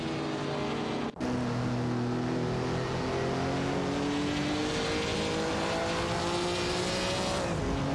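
AI-driven race cars battling for tenth in a racing video game, a Griffith 200 and a Chevrolet Corvair, engines droning loud and sustained with rising pitch through the gears, one brief sharp cut early on, no voices.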